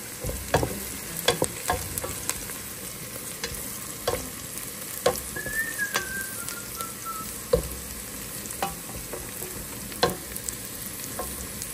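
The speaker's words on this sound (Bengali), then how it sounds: "ভাজতে থাকি যতক্ষণ না ব্রাউন হয়।" Onion and green chili frying in a pan, with a steady close sizzle throughout and repeated sharp scraping clicks from stirring.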